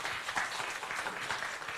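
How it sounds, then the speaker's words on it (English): Applause from an audience at a university event, a steady wash of many hands clapping throughout, fairly quiet and with no speech. "Let's have a round of applause."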